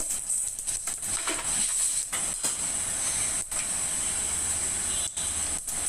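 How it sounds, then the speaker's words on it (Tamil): Mustard seeds crackle and sizzle in hot oil in a kadai, a steady loud hiss with scattered pops, no voices. "நான் கடாயை வச்சுருக்கேன், அதில் வந்து கடுகு போட்டிருக்கேன்."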